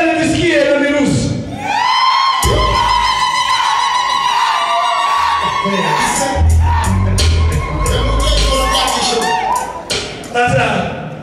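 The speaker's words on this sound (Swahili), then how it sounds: "Naomba nisikie vigelegele vya Kimasai na virusi ya Kimasai" Maasai wedding guests ululating together in long, high, wavering trills, loud and close, with crowd shouting and cheering mixed in throughout.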